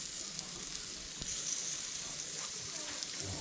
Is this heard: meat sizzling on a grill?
yes